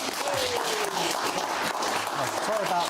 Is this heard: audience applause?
yes